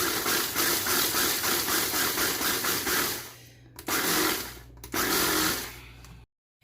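A food processor chops ingredients for cherry cheesecake bars in repeated rhythmic pulses, its motor whirring loud and close in bursts separated by brief pauses before stopping.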